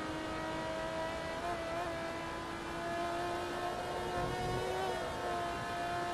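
Ferrari Enzo engine in the racing game Forza Motorsport 2, a sustained high-pitched whine that holds steady and rises slightly, heard alone at a moderate level.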